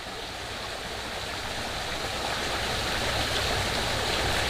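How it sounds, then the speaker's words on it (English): Forest stream water bubbles and rushes past close by, a steady, full, continuous wash of flowing water with no voices. "with the water just bubbling past"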